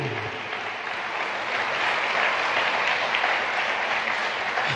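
Congregation applauding during a church service, a sustained, even roar of many hands clapping at moderate distance, steady throughout with no speech on top.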